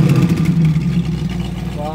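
Vintage 8-cylinder car engine running close by, a loud, deep, throaty rumble with a steady low pulse that swells slightly as it is given gas, a voice briefly audible over it.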